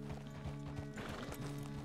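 A horse's hooves clip-clop at a steady, close walking rhythm in the video game Red Dead Redemption 2, with sustained tones underneath.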